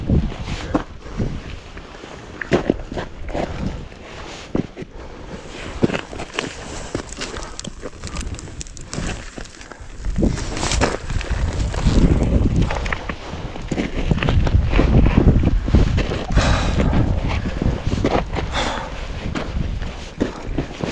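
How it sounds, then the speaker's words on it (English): Wind blowing outdoors high in Olympic National Park, with steady rushing noise and rumbling buffeting on the microphone that builds louder in the second half, mixed with occasional footsteps or clothing rustle. "Oh, the wind's lightened up."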